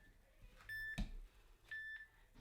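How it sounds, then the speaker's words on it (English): A workout interval timer gives two short electronic beeps about a second apart as it is paused, faint and thin over a quiet room. "Just going to pause my timer."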